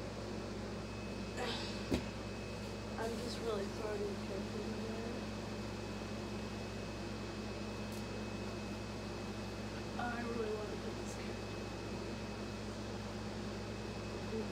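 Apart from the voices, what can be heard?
air conditioning running in the background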